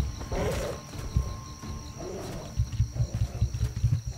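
A tiger in the video game Atlas roars and growls nearby, a loud snarl early on followed by rumbling, pulsing growls toward the end, with no speech.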